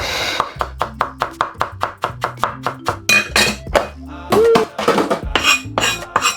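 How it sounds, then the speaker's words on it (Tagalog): A knife chops food in a kitchen, cutting small pieces for a Filipino binagoongan dish, with rapid, steady, near knocks on a cutting board and a brief clink partway through. "Lagyan natin ng konting maliliit na hiwa para may texture."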